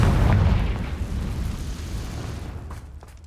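Confringo fire spell explosion in Hogwarts Legacy, a loud booming blast at the start that rumbles and fades over a few seconds, heard alone.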